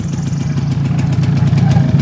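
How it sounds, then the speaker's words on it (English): A motorcycle engine rumbles steadily close by, a loud low drone that holds without fading, with no one talking. "There's a motorcycle coming by, so if you hear that, don't sweat it."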